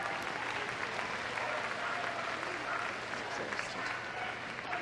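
Sustained audience applause fills the arena at Crufts 2014 after a rescue dog's agility run, a dense, steady wash of clapping from a large indoor crowd throughout.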